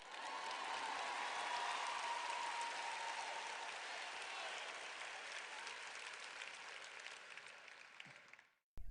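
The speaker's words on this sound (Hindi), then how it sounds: "आप ज्यादा ऊंची तालियां नहीं बजा रहे?" Audience applause at a Christian sermon by Joyce Meyer, a dense, steady wash of many hands clapping that holds for about eight seconds, then fades and cuts off abruptly.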